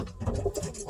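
A grizzle pigeon cock coos in low, throaty rolling phrases close by, steady and unbroken through the moment with no voices.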